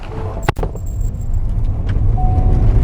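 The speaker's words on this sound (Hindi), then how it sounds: "मेन चला के देखते हैं भाई गाड़ी चलने में कैसी है" Diesel Ford EcoSport, about 13 years old, pulling away: a short clunk near the start, then a steady low engine and road rumble that builds gradually, with no talk.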